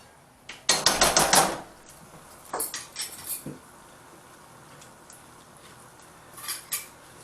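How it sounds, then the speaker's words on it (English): Vanilla being stirred into a sauce in a pan for bananas Foster: a loud burst of clinking spoon-against-pan scraping, then a few softer scrapes and taps, with a brief clatter near the end, no voices. "And you're going to stir it around. Make sure it gets all stirred in."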